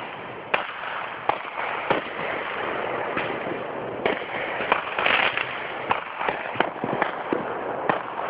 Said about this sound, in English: It might be dark, but you can still see them fireworks of awesomeness.